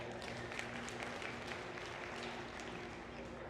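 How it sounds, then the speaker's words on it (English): Audience applause at a ranch riding pattern clinic, a steady wash of clapping from a crowd that holds evenly throughout at a moderate distance. "How about a round of applause for Matt?"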